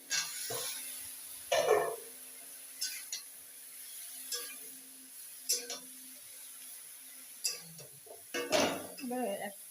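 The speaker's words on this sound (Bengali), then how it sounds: "এখন সবজিগুলো দিয়ে দিচ্ছি সবজি মানে খালি বেগুন" Eggplant goes into a pan while pona fish cooks, bringing soft clinks and clatters of utensils with a brief frying hiss, near and intermittent, while someone talks throughout.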